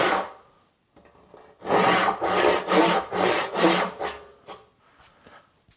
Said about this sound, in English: Going with a full-blown 5 points per inch rip saw